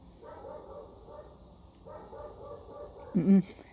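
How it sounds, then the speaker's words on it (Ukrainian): A small dog, just woken, gives a short, sharp bark near the end of a quiet indoor moment, preceded by faint tonal sounds in the room. "Собачка проснулася."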